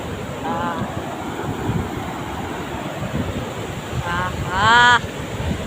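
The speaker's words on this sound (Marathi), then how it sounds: "किती मोठ्या मोठ्या लाटा येत आहेत" Large ocean waves break and wash along the shore at a family picnic spot, a steady loud surf roar with wind buffeting the microphone throughout; brief voices cut in near the start and again toward the end.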